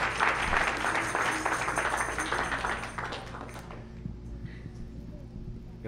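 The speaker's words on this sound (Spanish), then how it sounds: "Vamos a dar un aplauso, que se sienta bienvenido." Congregation applause welcoming a speaker at a church service, a dense wash of clapping that swells early and then thins out and fades over several seconds.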